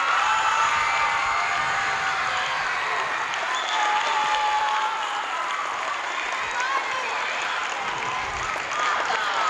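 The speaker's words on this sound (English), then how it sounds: "So give yourselves a round of applause." Students at a Milken Award school assembly applaud loudly and continuously, dense room-filling clapping that holds steady for about nine seconds, with faint cheers and voices mixed in.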